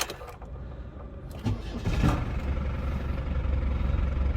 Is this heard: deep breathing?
no